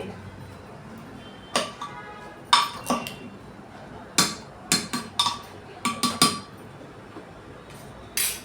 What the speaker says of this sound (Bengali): কুকারে দিয়ে দেওয়ার পর আবারও এটা আমি নেড়ে চেড়ে সব একসাথে মিশিয়ে নিচ্ছি।